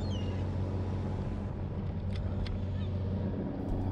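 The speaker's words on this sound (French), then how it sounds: "Des mouettes qui viennent picorer sur le filet les petits poissons qui restent" Seagulls give a few faint, brief calls around a fishing boat out at sea in fog, mostly buried under the loud, steady drone of the boat's engine.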